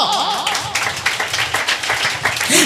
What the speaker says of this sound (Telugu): చప్పట్లు కొడతావా?